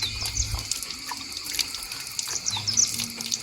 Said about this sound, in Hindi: ये मैंने पानी खोल दिया इसको